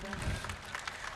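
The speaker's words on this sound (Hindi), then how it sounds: "तालियां बजा दीजिए दोस्तों एक बार" Short burst of audience applause at a Hindi shayari poetry recital, a dense wash of clapping from a nearby crowd that stays steady and fairly loud throughout.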